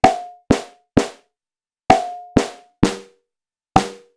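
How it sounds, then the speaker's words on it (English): Synthesized rim shots from a WMD Kraken Eurorack snare drum module, seven punchy hits in an uneven rhythm, each with a bright crack and short tonal ring decaying into silence. "and if you hit them at the same time, we get kind of a rim shot."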